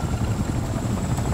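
A helicopter in the video game Wolfenstein II: The New Colossus gives a steady, close rotor and engine drone with a continuous whine on top, loud and unbroken through a brief moment.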